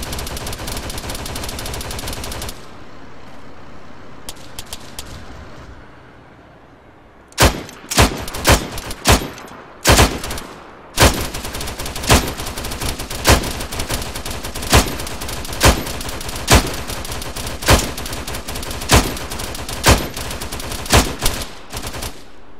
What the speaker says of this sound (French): Ok, je prends des tirs